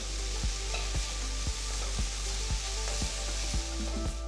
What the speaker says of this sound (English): Saute the onions and garlic for about 2 minutes.